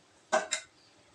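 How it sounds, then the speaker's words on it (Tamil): A pot of vegetable kurma is stirred and a metal lid set on it, producing two quick, close clanks in rapid succession before a quiet background. "இப்போ இதை கலந்து விட்டுட்டு மூடி போட்டு மூடி வச்சு குக் பண்ணிக்கலாம்"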